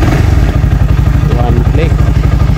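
A motorcycle with a dirty neutral diode and hard-starting fault runs at idle, its engine thumping in a fast, even, loud pulse close to the microphone, with talking over it.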